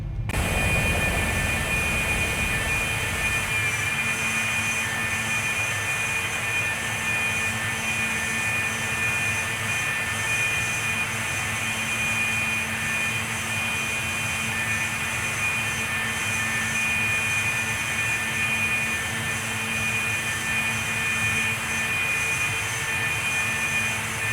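Boeing 737 jet engines roar steadily outside the aircraft in the X-Plane 11 flight simulator, a loud, constant broadband rumble with a thin high whine held throughout.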